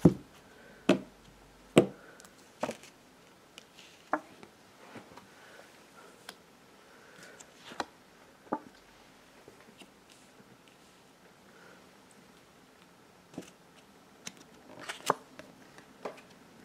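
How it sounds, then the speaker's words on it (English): Tarot cards riffled and tapped in a series of sharp, close clicks and flicks, irregular bursts scattered across a quiet room, with no talking. "Shuffling the cards."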